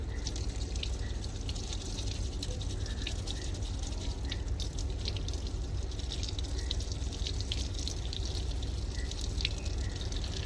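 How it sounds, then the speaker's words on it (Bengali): Tap water runs steadily from a faucet while a lucky bamboo plant is washed, a faint, constant splashing trickle with scattered drips and no voices. "তো গাছটাকে পুরোপুরি একবার কলের জলে ভালো করে ওয়াশ করে নেবো"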